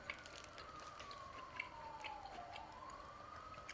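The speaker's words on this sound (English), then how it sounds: "And you had the police sirens outside." A police siren wails faintly from a New York City street outside, its pitch gliding down and then climbing again in a single slow sweep, far off and muffled.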